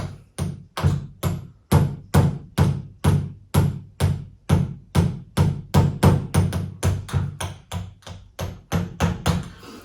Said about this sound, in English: So you're hammering right now, Kino.